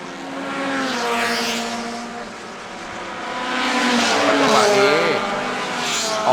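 Racing cars speed through a corner at a Thai circuit race, engines swelling and fading as they pass, with a rising whine near the end; a commentator talks over the sound.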